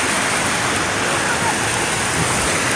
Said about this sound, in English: The water is literally like so tall now, moving so fast.